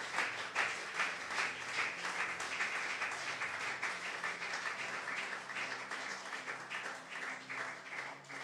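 A church congregation applauds loudly in thanks to God, a sustained, crowded roar of clapping that holds steady throughout.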